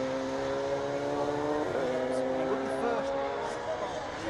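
A race car at Donington Park's Coppice corner during a BRSCC race meeting, its engine whining steadily at a distance and shifting pitch as it passes, under ongoing commentary.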